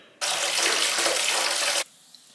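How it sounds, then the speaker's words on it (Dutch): Shower water runs at home, a steady loud hiss of spray that starts abruptly, holds for about a second and a half, then cuts off into near silence. "En dan ga ik heerlijk even douchen."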